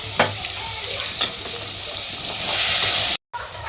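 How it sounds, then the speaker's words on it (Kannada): A dish being stirred with salt in a frying pan, with a steady loud sizzle and occasional scraping strokes of the spoon across the pan, close up and without speech. "ಹಾಂ ಅದು ಹಾಕತ್ತ ಹಾಕಿ ಮತ್ತೆ ಮಿಕ್ಸ್ ಮಾಡ್ಬೇಕ್ರಿ."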